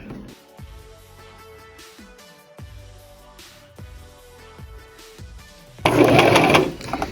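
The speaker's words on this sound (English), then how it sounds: "We are going to go ahead and sew it." A sewing machine stitches a summer bucket hat in short repeated bursts, each start marked by a clunk and a brief motor whir up close, ending with a louder, denser rush of noise.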